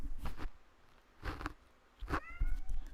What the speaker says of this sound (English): if you hear a cat in the background